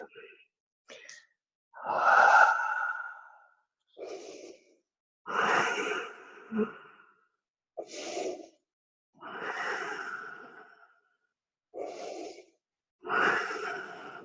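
Deep, slow breathing from a yoga student preparing for an inversion, several long airy exhales and inhales in an uneven rhythm with quiet gaps between, close and moderately loud with no talking.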